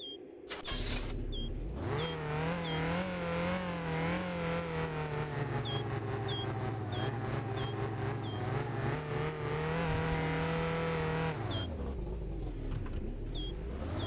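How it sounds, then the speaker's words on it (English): Car engine in the game My Winter Car revving hard and holding high revs against the rev limiter for about ten seconds, loud and steady with wavering pitch, then dropping back to idle. "start revving the bollocks off your car"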